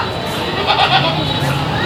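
A large goat bleats in a short wavering cry, close by, amid chatter and crowd noise at the Jora Gate cattle market in Khulna.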